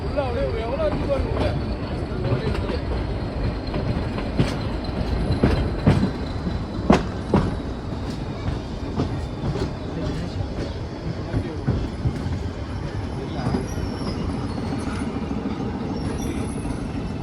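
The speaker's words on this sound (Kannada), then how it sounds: "ಕಿಟ್ಟಿ ಅನ್ನೋ ಒಂದು ರೈಲ್ವೆ ಸ್ಟೇಷನ್ಗೆ ನಾವು ಬಂದಿದ್ದೀವಿ ಈಗ" An Ooty toy train at Kitti railway station rumbles steadily nearby, with wheel clatter and occasional metallic squeals under a background babble of people.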